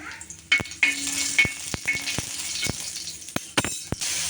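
Garlic frying in oil in a pan for a tarota leaf vegetable dish, a steady soft sizzle broken by about ten sharp clicks and taps of a spoon against the pan, close.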